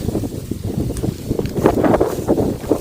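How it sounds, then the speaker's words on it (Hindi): Wind blows across a paddy field at harvest time, a steady rough rumble of gusts buffeting the microphone, with faint rustling underneath. "मस्त हवा चलत है।"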